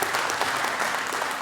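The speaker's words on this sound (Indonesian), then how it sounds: "tepuk tangan untuk kalian semua yang sudah hadir." A live audience at a university theater performance claps continuously, a dense, even wash of applause filling the whole brief moment.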